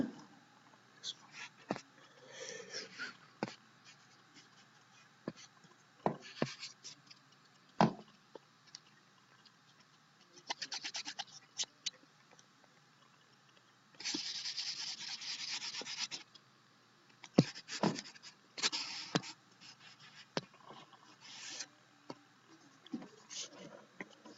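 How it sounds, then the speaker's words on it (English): Writing being erased from a board during a math lesson, with scattered rubbing strokes, taps and short scratchy bursts, one sustained rub in the middle, fairly faint, between stretches of a voice talking. "let me erase this thing."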